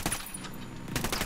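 Rapid minigun fire in a Bolivian combat scene from Ghost Recon Wildlands rattles in a continuous, dense burst that drops briefly before another sharp volley, loud and close, with no talk.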